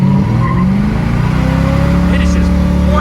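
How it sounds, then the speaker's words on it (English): A V8 El Camino launches hard on a test strip, its engine roaring loud and close and climbing in pitch as both rear tires spin and squeal. "It is just blasting both tires."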